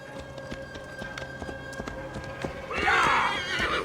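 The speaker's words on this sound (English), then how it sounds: "I'm hoping this is my horse." A horse in Assassin's Creed Valhalla gives a loud, close whinny near the end after a run of rhythmic hoofbeats, all within game ambience.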